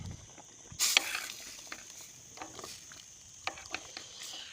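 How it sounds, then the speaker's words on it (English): A spoon stirs hot spicy chilli in a pan cooked hobo style, giving a soft scraping clatter and quiet sizzling, with a sharper scrape near the start and faint taps afterward. "Needs a stirring"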